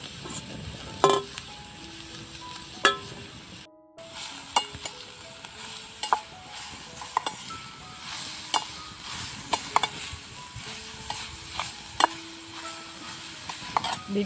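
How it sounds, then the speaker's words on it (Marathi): Grated carrot and beetroot stir-fried in ghee for halwa, a steady soft sizzle with scraping stirs and occasional spoon clinks against the pan, close and alone without talk. "आता किसून घेतलेलं गाजर भाजून घ्यायचं आहे आपल्याला तुपामध्ये। त्याच्यासोबतच बीट टाकून द्यायचं,"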